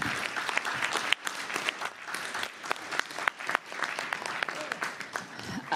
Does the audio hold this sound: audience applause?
yes